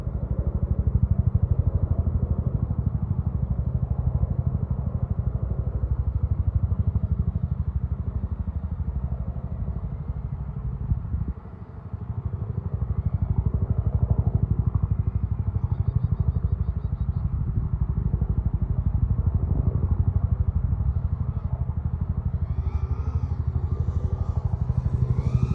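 An iFlight Nazgul-Evoque F4X 6S FPV drone flies steadily through a gap under bushes, its motors giving a continuous buzzing whir with a brief dip midway, loud and close throughout with no voices.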